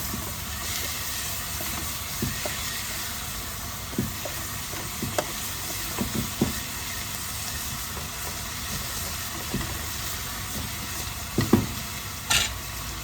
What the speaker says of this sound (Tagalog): durog-durog din natin yung kamatis